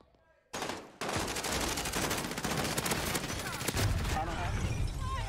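Weapon firing in a Call of Duty multiplayer match, a sudden loud onset of rapid repeated gunshots after a brief quiet moment, continuing dense and close for several seconds.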